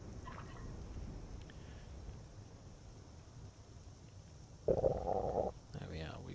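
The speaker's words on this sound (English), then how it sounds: "That was our stomach rumbling" A character's hunger stomach rumble in modded Skyrim survival play, one brief low growl near the end over a steady windy background.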